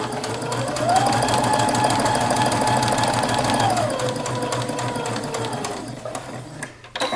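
A sewing machine runs steadily for about three seconds stitching a tuck at a 3.0 stitch length, a close, even whir that then slows and stops, followed by faint handling noises.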